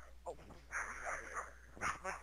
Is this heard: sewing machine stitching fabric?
no